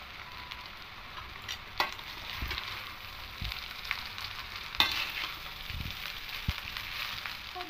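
Rice stir-fried in a pan for vegetable fried rice, a steady soft sizzle with intermittent scraping and clinking strokes of the spatula against the pan, no voices.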